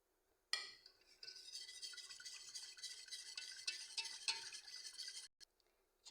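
A creamy chicken béchamel sauce is stirred in a pan, giving close, continuous scraping and swirling strokes with a soft sizzle for about five seconds before it stops.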